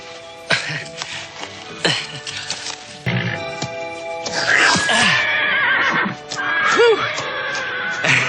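A horse neighs several times, its shrill whinnies rising and falling, mixed with snorts and clattering noises nearby.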